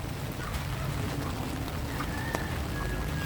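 Heavy rain falling in a backyard garden, a dense steady hiss of drops on surfaces with scattered sharper splashes, constant and enveloping with no clear talk.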